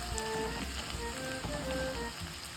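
Aloo tikki (spiced potato patties) fry in a pan with a soft, steady sizzle and faint crackle, continuous and fairly quiet.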